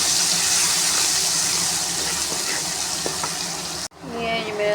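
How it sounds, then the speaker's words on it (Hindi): Ginger-garlic paste with cumin frying in half a cup of ghee makes a loud, dense, steady sizzle close up, which cuts off abruptly near the end into quieter kitchen sound. "ये मेरा अदरक लहसुन का पेस्ट भी फ्राई हो रहा है"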